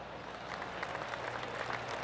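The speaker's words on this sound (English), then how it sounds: "Oh, golf clap. That's a beauty." Soft, steady golf-clap applause from a small crowd at a professional golf tournament, scattered light clapping continuing evenly without voices.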